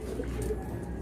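A racing pigeon coos softly and close by after landing at a loft trapdoor during a derby race, a low murmuring call over a steady background hum.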